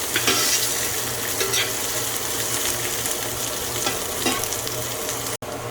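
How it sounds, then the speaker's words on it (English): Onion fries in a pan with a continuous, fairly loud sizzle and crackle throughout, with a few light stirring scrapes and one brief dropout near the end. "So we're gonna fry our onion for about 5 minutes."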